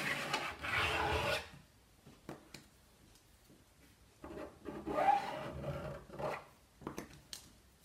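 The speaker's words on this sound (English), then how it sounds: "Might use this little squeegee actually" A small squeegee scrapes excess screen printing ink off a screen in a few short rasping strokes: one longer pass, then several brief scrapes, close and distinct.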